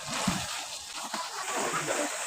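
Water poured into a cooking pot of cauliflower and meat curry (gobhi gosht), a brief splash followed by faint sloshing and sizzling, quiet and close.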